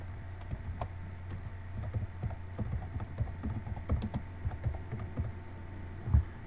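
Fingers type on a computer keyboard in a continuous patter of soft, close keystrokes over a steady low hum, with no one talking.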